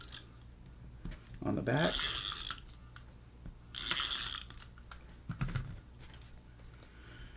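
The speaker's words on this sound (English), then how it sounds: "I'm just gonna use my tape runner, glue runner, whatever you want to call it, and just put down some strips" Tape runner laying down glue strips while making pop-up market packaging, with two loud bursts of dispensing rasp and a smaller one later, set against quiet background and a brief spoken phrase.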